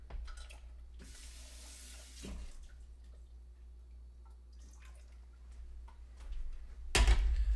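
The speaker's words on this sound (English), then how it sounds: "Add some water." Water poured from a tap into a pot for strawberry syrup made from frozen strawberries, a faint steady trickle with a louder splashing burst near the end.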